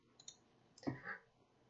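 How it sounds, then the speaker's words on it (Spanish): A single computer mouse click, quiet and close, followed by a brief soft rustle of desk movement, with no talking, during a Composer installation on a Windows 10 machine. "Voy a dar clic, le voy a dar instalar para todos los usuarios."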